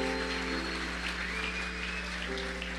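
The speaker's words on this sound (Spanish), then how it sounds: "dele ese aplauso al Señor." A church congregation claps together in a dense, continuous patter of applause that holds steady and fairly faint, under a sustained musical drone.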